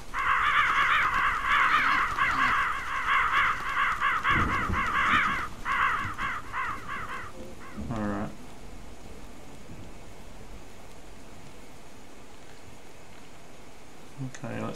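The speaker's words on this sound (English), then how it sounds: "I know something's wrong when you see a murder of crows" Loud, repeated cawing from a group of crows in the indie horror video game MOLD, a dense chorus of rhythmic calls for the first seven seconds, then a brief burst of harsh calls before settling into quiet ambience.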